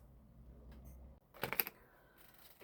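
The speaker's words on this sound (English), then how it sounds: "I will get my scissors and snip it slightly more" Scissors snipping paper for an altered book craft project, a quick cluster of a few sharp, close cuts in a quiet room.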